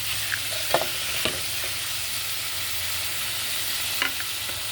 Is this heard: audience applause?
no